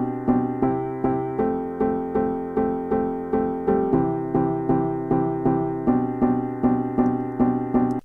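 An Imagera piano plays a repeating chord progression, evenly pulsed chords struck about twice per second with a soft decay after each, heard alone at moderate volume.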